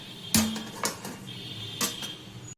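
A metal lid is set down on a pot of freshly cooked biryani in a home kitchen, giving a few sharp clanks and rattles close by, then a brief scrape and settling clatter.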